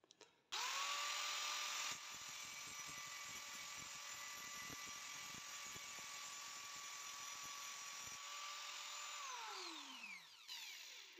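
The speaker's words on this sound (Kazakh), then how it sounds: "Сондықтан бұны әзір сіздерге қайрап көрсетейін." A power tool spins up to a steady high whine to sharpen an original motorcycle part, holding its pitch for several seconds with faint intermittent scrapes, then winding down at the end.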